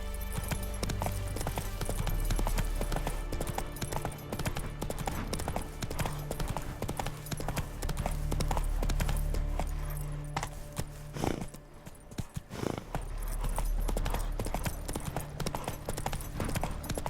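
Horse hooves clip-clopping steadily in a video game as the mount is ridden, a clear rhythmic gait that runs close and loud almost throughout, briefly thinning out partway.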